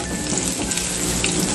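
Chopped garlic dropped into hot cooking oil in a pan, giving a loud, dense, continuous hiss and crackle that fills the whole moment with no voices over it.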